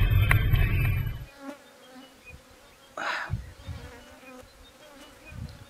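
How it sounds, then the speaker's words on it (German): Flies buzzing in the Australian Outback beside the Stuart Highway, a close insect drone weaving in and out after a loud opening rush, with one brief louder pass midway. "dass es im Outback viele Fliegen gibt"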